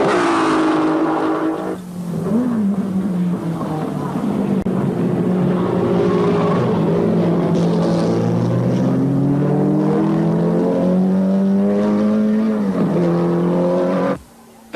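Vintage Vanwall racing cars at the 1957 British Grand Prix roar by with a loud, sustained engine note that rises and shifts in pitch as they pass close, then cuts off abruptly.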